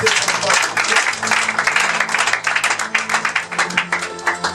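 A church congregation applauding the Lord during a service, loud continuous clapping from many hands that turns into a steadier rhythmic clap toward the end.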